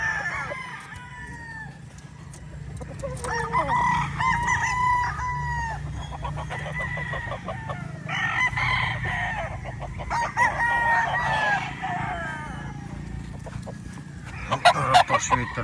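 Gamefowl roosters of the Raptor sweater line crow repeatedly at close range in a windy yard, several overlapping calls rising and falling with clucks and other birds around, while someone talks intermittently in between.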